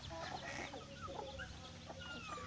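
Several chickens cluck and chatter close by, a busy continuous farmyard clucking with no talking.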